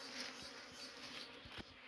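Honeybees swarm close around an opened wild hive during a honey harvest, a dense, steady buzz holding throughout with a few soft thumps and no talking.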